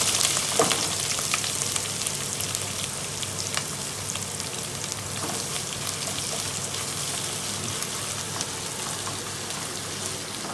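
Whole spices, ginger and garlic fry in hot oil for a Kerala-style fish biryani, a dense, steady crackling sizzle like heavy rain throughout, with occasional sharper pops and no voices.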